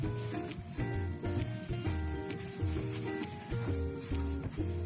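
Wet ingredients, oil and juice, being mixed into a dry lemon and raisin cookie mixture in a bowl, a continuous close scraping and stirring with repeated rhythmic strokes and soft knocks.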